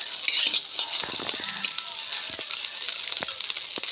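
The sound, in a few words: fish frying in a pan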